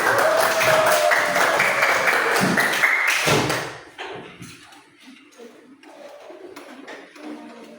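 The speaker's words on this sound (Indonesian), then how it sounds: "Tepuk tangan buat kelompok 2." A brief burst of group clapping in a classroom fills the first few seconds, then fades into quiet room noise with faint murmuring.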